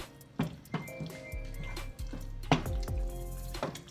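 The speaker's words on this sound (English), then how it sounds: "we're gonna give it a good stir." A pie mixture with almond milk and agave being stirred in a bowl, giving several wet, squishy scrapes and clinks in an uneven rhythm, close and moderately loud.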